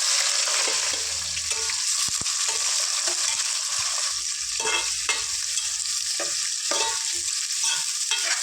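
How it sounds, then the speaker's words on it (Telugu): Onions frying in a pan for a Nellore fish curry, with a steady broadband sizzle running throughout and occasional clicks and scrapes of stirring; no one speaks. "ఇది ఒక ఫైవ్ మినిట్స్ ఫ్రై చేసుకుందాం ఆనియన్స్ని"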